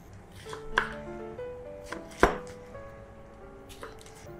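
A knife chops a yellow capsicum on a board, with a few sharp, well-spaced cuts up close and faint kitchen clatter between them.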